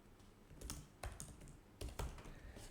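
Soft typing of code on a computer keyboard, a few short clusters of key clicks with pauses between, quiet and close.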